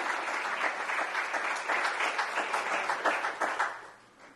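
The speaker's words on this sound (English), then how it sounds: "come on, clap your hands" Church congregation clapping together, a full dense round of hands that holds steady before tapering off at the end, with faint voices underneath.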